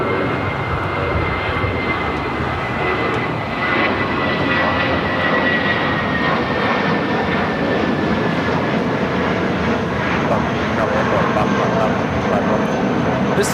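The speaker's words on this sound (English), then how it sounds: "This is Volaris 7855 taking off to Aguascalientes on the A320." Volaris Airbus A320 jet taking off at LAX, a steady loud roar of engines holding level throughout with a thin whine above, no one talking.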